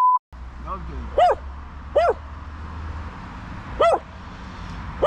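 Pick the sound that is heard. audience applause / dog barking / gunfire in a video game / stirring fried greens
dog barking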